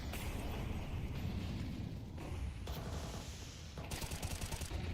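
Gunfire rattles on through a Counter-Strike match at PGL Astana 2025, with dense, rough bursts and a thump that fits a grenade hit, all fairly quiet and heard without talk.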